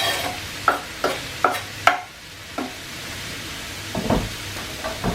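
Wine cap mushrooms are stir-fried with carrot and onion in a pan: a series of sharp scraping stirs, about a half-dozen spaced strokes over a low sizzle, close and clear.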